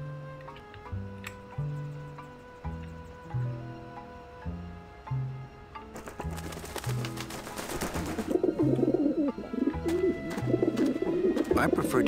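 Pigeons coo on a rooftop in the adventure game Grim Fandango, repeated soft cooing over steady game music, with a voice talking at times and busier game sounds in the second half.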